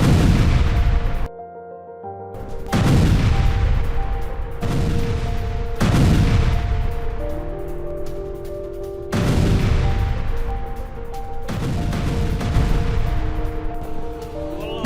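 Explosions and gunfire from US-UK military strikes: a series of loud, sharp booms, each followed by a long decaying rumble, arriving every few seconds with heavy reverberation and no voices.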